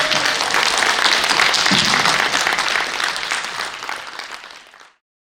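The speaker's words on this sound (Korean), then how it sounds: "우리 다 오시는 만큼 박수를 갖다가 더 세게 한번" Listeners at a tea culture leaders' training lecture give loud, dense applause for the incoming lecturer, holding strong for several seconds before tapering off and ending abruptly into silence.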